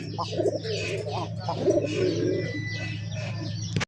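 Fancy racer golla Giribaz tumbler pigeons coo softly in short, throaty bursts over a steady low hum, with a few faint chirps mixed in.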